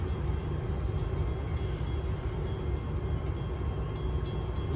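Amtrak passenger train pulling out of the station at Holland, Michigan: a steady, loud low rumble of rolling rail cars and engine, constant throughout with no talk.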